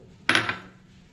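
A mixer grinder jar clatters once as it is set down and handled while coconut and soaked cashews go in for grinding, a single close metallic knock with a short ringing tail.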